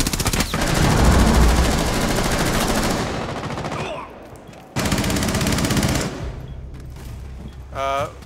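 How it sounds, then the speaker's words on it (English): Loud, dense automatic gunfire and bursts of shots in Rainbow Six Siege on the Chalet map during a bomb match, with rapid rattling volleys, a brief lull, then more firing close by. "Wait, Magnum, can you get shooting from the stairs?"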